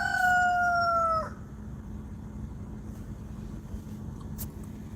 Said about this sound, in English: You just heard him crow.